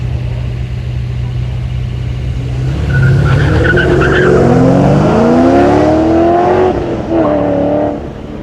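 A race car at the Legend of the Lakes hillclimb roars past under acceleration, its tyres squealing briefly as the engine note rises and falls. A commentator talks over the sound.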